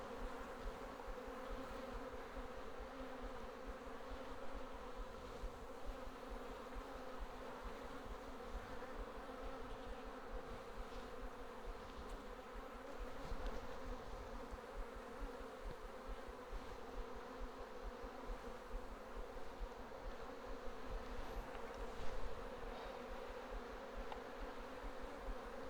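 Thousands of honeybees hum around an open homestead beehive, a dense, continuous drone with individual bees passing close now and then, steady throughout and without talk.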